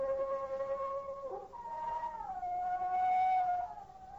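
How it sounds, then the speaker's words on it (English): A lone wolf howls in long sustained tones that slide downward and then hold a steady pitch, clear and somewhat distant against a quiet background, in an old 1944 radio drama. "Sounds like a wolf somewhere."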